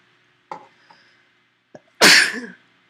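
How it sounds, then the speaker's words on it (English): A single loud, close sneeze bursts out after a few small breaths and sniffs, with quiet indoor stillness around it. "Achoo."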